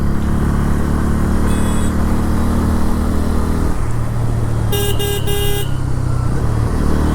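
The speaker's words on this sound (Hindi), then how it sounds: "and even horn is pretty loud" Bajaj Pulsar N160 motorcycle horn sounding in loud short bursts, a brief toot followed by a longer blast, over a steady close engine and road noise.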